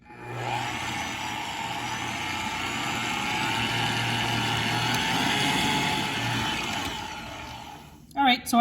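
An electric mixer runs steadily, beating Nutella cookie dough for thumbprint cookies, with a constant whirring drone that holds for several seconds before it stops abruptly at the end, followed by a clatter.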